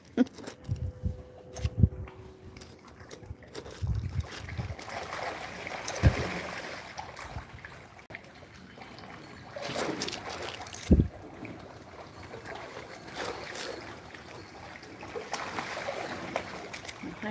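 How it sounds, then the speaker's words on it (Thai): A river-crossing boat idles on a canal, its motor a low steady hum under wind buffeting the microphone and the wash of moving water, with a few louder knocks and splashes. "รอข้ามเรือกลับบ้าน"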